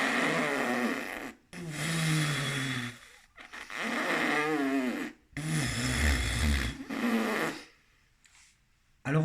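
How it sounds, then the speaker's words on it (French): A didgeridoo drone played with circular breathing, the player emptying the lungs and then inhaling while deflating the cheeks. Four long, buzzy, throaty stretches are split by short gasping breaks, and the drone fades out near the end. "je vide mes poumons, j'inspire en dégonflant les joues"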